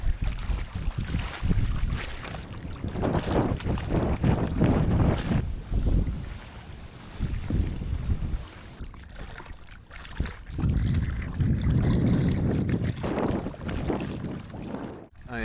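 Wind gusts roar continuously across the mic on a collapsed, sketchy lake dock with big tires, rumbling and buffeting loudly with brief lulls.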